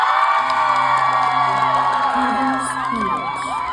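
A live crowd at a Pepita Curtis show in Madrid, Spain cheers, whoops and shouts loudly and continuously, with many high rising and falling yells layered over a dense roar.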